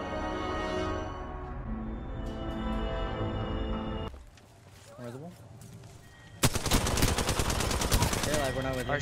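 Gunfire in the Apex Legends battle royale game, a dense burst of automatic shots crackling loudly in the last few seconds over game music and ambience, with players talking in the background.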